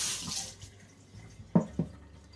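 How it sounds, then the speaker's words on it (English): A box grater is rinsed under a kitchen tap, with a soft trickle of running water followed by two short splashy knocks of metal against the sink. "bust out the box grater, give it a little rinse"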